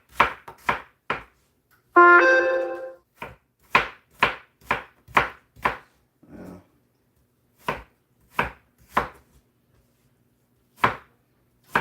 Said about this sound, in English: I got 15 apples right here that I done peeled and now I'm slicing up